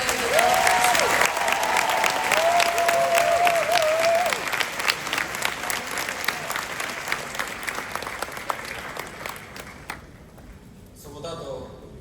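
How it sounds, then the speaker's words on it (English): A large convention crowd in Las Vegas claps steadily and loudly, the applause slowly thinning and fading, with a voice calling out over it near the start. "Please give them a round of applause."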